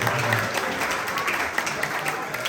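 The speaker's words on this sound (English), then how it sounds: "So big hand for the bridesmaids." Applause for the bridesmaids at a wedding reception, a steady wash of clapping that carries evenly through the whole moment, with a voice heard faintly underneath.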